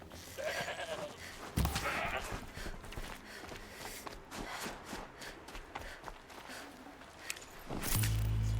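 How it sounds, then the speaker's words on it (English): Sheep bleating in the video game Horizon Zero Dawn, a few short bleats among footsteps and ambient game sound, with a louder burst near the end. "Hey, sheep."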